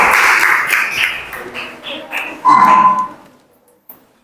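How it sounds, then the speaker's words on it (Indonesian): Classroom applause for a student group in a teaching session: a few seconds of scattered clapping with voices mixed in, thinning out and fading to near silence with one late clap. "Silakan kasih aplaus kepada kelompok 1."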